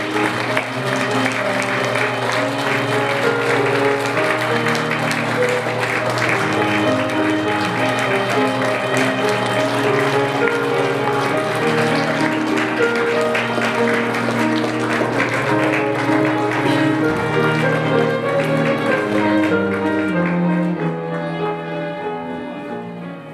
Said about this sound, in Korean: 양가 어머님께서 입장하실 때 큰 박수 부탁드리겠습니다.